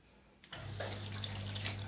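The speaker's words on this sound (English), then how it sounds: "water is coming in, and you can see water is coming in" Water begins gushing into a DIY aquaponics tank fed by an overhead sump filter, starting abruptly after a quiet moment and then pouring steadily at a low, close level.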